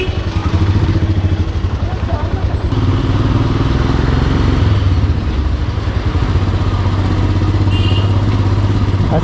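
A motorcycle ride in Pahalgam, with a steady, loud engine drone and rattling clatter running throughout, close to the listener, with wind and voices mixed underneath.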